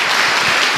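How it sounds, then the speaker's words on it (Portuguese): A church congregation breaks into a short, loud burst of dense applause, many hands clapping together close by. "Dê uma salva de palmas ao Senhor."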